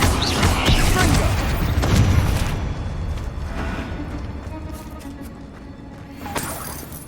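A Confringo blasting curse explodes in the Hogwarts Legacy video game, with heavy booming bursts crowding the first couple of seconds, then a rumbling decay into quieter game ambience and a faint voice.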